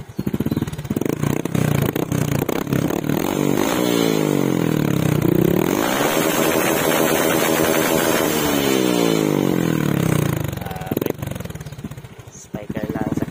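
A motorcycle with an aftermarket Spyker exhaust pipe revs up loudly, holding a rising and falling whine for several seconds before settling back, with a voice talking over parts of it.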